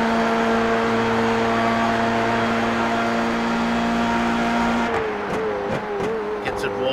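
Formula 3 race car in a racing game at the Charlotte Motor Speedway Roval, engine droning loud and steady at high revs, then dropping and stuttering through downshifts and blips under braking into a chicane.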